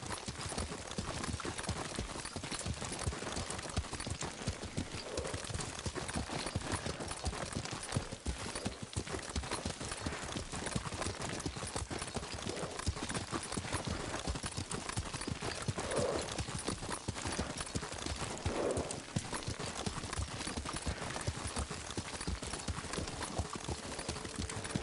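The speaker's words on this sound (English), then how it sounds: "Lord Sakai taught me to ride a horse." Steady, rapid hoofbeats of a galloping horse in the video game Ghost of Tsushima, pounding on without pause, loud and close, with a couple of brief whinny-like sounds partway through.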